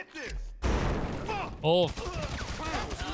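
Gunfire in the GTA 5 video game, with a loud burst of shots partway through, mixed under excited talking and game sounds.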